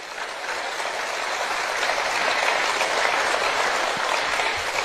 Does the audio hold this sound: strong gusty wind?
no